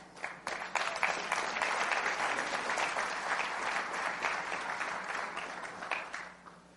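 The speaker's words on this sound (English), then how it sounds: "Clap." An audience at a leadership sermon breaks into loud applause that swells quickly, holds as a dense sustained clapping for several seconds, then tapers off near the end.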